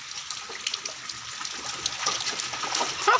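A child bathing and swimming in water, with light splashes and trickling water that grow louder toward the end, heard close and with no voices.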